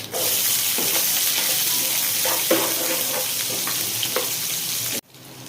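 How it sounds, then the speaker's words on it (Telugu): A steady loud sizzle of onions frying in hot oil with tempering spices, with occasional stirring clinks, cutting off abruptly near the end. "ఇప్పుడు ఈ వేయించుకున్న పోపుల్లో ఆనియన్స్ వేసుకుందాము."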